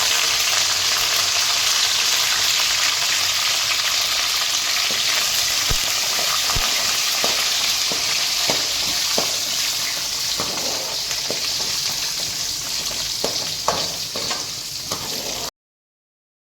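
Garlic, four dried chillies and curry leaves fry in oil with a dense, loud, continuous sizzle, scattered stirring clicks throughout, then a sudden cutoff at the end.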